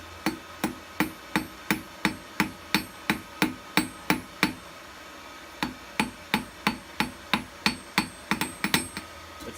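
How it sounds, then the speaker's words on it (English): A small blacksmith hammer strikes hot steel on an anvil while rounding the edges of a forged hair pin, a loud, close, evenly paced series of sharp ringing blows, about two per second, with no voices. "I'm just going to use a smaller hammer, see if I can round out the edges of this and turn it into a bit of a pin"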